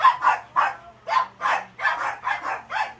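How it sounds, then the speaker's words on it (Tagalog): A dog barks repeatedly in a steady rhythm, about nine sharp yips in quick succession, close by and fairly loud, with no talking. "Ayan, ingay ng aso."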